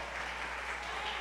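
A church congregation claps together in sustained, dense applause, steady and fairly close throughout the short stretch, with no voices standing out.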